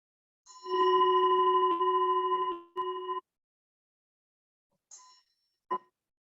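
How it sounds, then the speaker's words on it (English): A bell is chimed several times, each strike ringing with clear sustained tones that fade out, the later strikes shorter and more spaced apart in a quiet room. "Finish today by chiming the bell several times"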